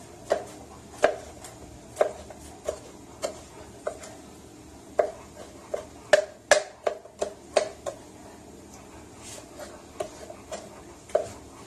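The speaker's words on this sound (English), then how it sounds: "So I'm going to get the rest of this diced up here." A knife dices mango on a cutting board with steady, evenly spaced sharp taps, close and crisp, quickening into a faster cluster partway through, with no talking.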